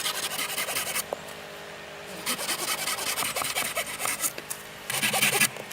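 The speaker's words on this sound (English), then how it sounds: "Each one polished to reveal the natural rings of the tree." Sliced wooden tree discs cut from thick branches are polished, giving close, raspy rubbing strokes in uneven bursts with short pauses between them.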